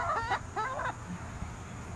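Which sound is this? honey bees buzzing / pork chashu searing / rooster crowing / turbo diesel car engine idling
rooster crowing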